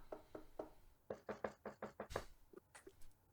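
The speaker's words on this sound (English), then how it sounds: "you hear a knock on your door." A series of knocks on a door: three spaced raps, then a faster run of about six, followed by a few softer taps, close and fairly quiet.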